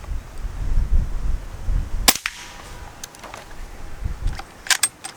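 A single sharp crack of an air rifle firing a pellet at about 1,270 feet per second, past the sound barrier, followed by a few fainter clicks and metallic handling noises.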